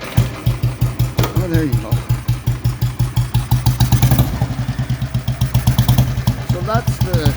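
A restored Royal Enfield Bullet 350 single-cylinder motorcycle, fitted with a silencer without its baffle, fires up and thumps at a steady loud idle up close, with a person speaking briefly over it.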